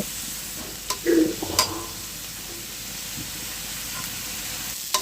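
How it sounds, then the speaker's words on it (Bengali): Eggplant frying in oil left over from frying fish, a soft steady sizzle with a few brief clinks and stirring scrapes near the start, no talking. "মাছ ভাজার তেলে বেগুনটা একটু ভেজে নেব"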